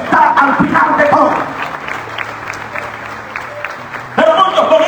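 A church congregation at a Spanish-language service bursts into applause, a loud clatter of clapping that fades under a preacher's speech, then swells again near the end.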